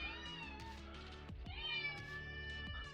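Several cats meow insistently while being teased with food bowls, repeated cries overlapping close by over a steady background hum.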